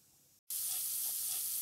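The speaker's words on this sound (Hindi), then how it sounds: "इसमें चटकने की आवाज़ आने लगे तो अपना जीरा हो चुका है" Cumin seeds hit hot oil in a pan for an aloo matar curry, setting off a sudden loud, steady sizzle with a fine crackling hiss right after a brief silence.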